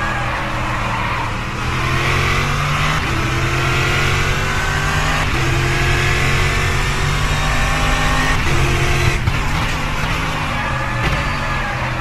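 A supercar engine revs hard and repeatedly, loud and close, the pitch climbing and dropping in surges over a steady throaty roar at a late-night car meet in Santa Cruz do Sul.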